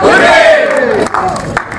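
A festival crowd roars a loud, drawn-out hurray in unison in reply to a hip-hip call, the shout swelling and then trailing into scattered cheers nearby.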